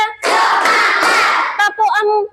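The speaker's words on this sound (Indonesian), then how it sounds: "kita melakukan tepuk semangat dulu" A group of children and adults claps together in a Tepuk Semangat spirit clap in a school classroom: a loud, dense burst of hand claps lasting over a second, followed by a child's and an adult's voices.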